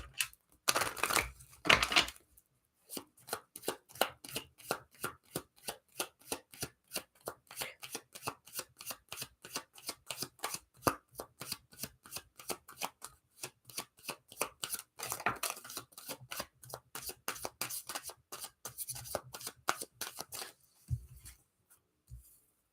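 A deck of tarot cards is shuffled repeatedly in rapid, rhythmic riffles, close and crisp, with a louder burst at the start and a few pauses, and no talk.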